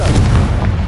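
Confringo explosive spell blast from the Hogwarts Legacy video game, a loud, dense booming burst with heavy low rumble filling the short moment, no voices heard over it.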